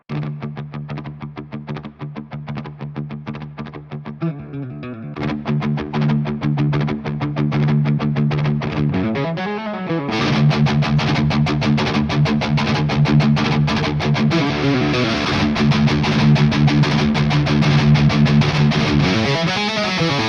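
A heavily distorted electric guitar plays sustained, crunchy chords through a Bogren Marshall amp, growing louder and brighter partway through with ringing, saturated tone.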